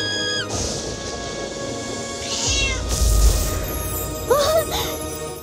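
A cat meows several times, clear and fairly close, with rising and falling calls in the second half over a soft background.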